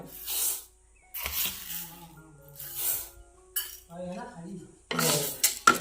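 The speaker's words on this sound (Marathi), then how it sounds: "इथे आता मी गॅसवरती कढई ठेवले आता हे भाजून घ्यायचे मला" Horse gram dry-roasting in a kadhai on a gas stove, with bursts of scraping and rattling as the grains are stirred against the metal, coming in several separate passes between pauses.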